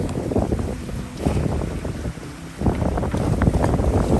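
Wind buffets the microphone in heavy gusts while water rushes and splashes past a sailing boat in open water on Barkley Sound, Vancouver Island, loud and continuous.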